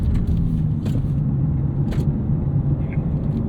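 BMW M2 and M4 cars launch together at the BMW Performance Center track, a loud, continuous engine rumble heard close from inside the car, with faint brief ticks and knocks over it.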